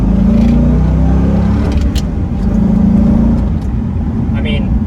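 A stock C5 Chevrolet Corvette with a six-speed manual revs its engine, giving a steady, deep induction-heavy drone with brief swells. A person talks over it throughout.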